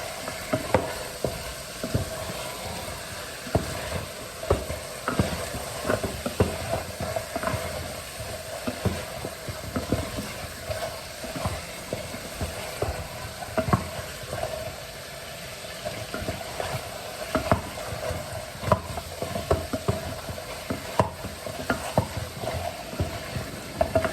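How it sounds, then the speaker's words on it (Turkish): Meat fries in a pan with tomato paste, sizzling steadily close up while a utensil scrapes and stirs in irregular strokes throughout, with no talking. "Eti kararttık çünkü."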